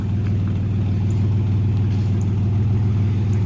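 Old car engine idling steadily after a new fuel pump was fitted, with rotted exhaust; a loud, continuous low rumble with no talk.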